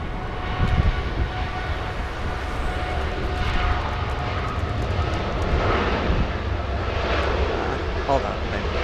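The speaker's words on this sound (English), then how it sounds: "Japan Airlines 8081. Getting a move on as we speak." A Japan Airlines jet departs at Los Angeles International Airport, its engines producing a broad, steady roar at moderate distance. The sound holds throughout with slight swells.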